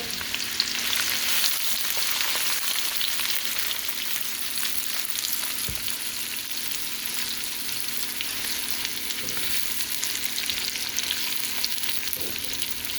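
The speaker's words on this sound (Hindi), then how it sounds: "तो यहाँ पर हम इन्हें लाइट ब्राउन होने तक कुक करेंगे ऑनियंस को" Chopped onions fry steadily in a pan for bhindi masala, a continuous dense sizzle heard close up with occasional faint stirring knocks, no talking throughout.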